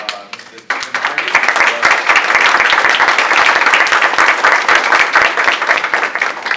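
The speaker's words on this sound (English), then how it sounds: "I think we should give a very warm applause to Mr. Stephen Hardy." Warm applause for a guest speaker at a talk on local government leadership, a dense, steady clapping from an audience that starts after a brief pause and holds loud and even throughout.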